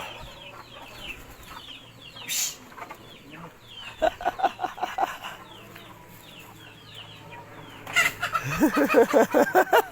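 Chickens cluck in repeated bursts, close by, with a louder flurry of excited calls near the end over a steady low hum.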